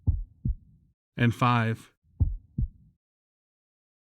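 Low double-thump heartbeat effect: two paired beats near the start and two more later, deep and close, with a brief spoken voice between them.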